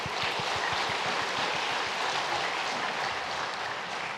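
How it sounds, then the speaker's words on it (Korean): A church congregation applauding during a Sunday service, a broad, steady wash of many hands clapping that sounds evenly dense and somewhat diffuse, with no voices over it. "하나님께 영광의 박수"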